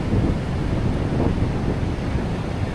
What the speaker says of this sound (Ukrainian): Зараз з моря вітер трішки йде.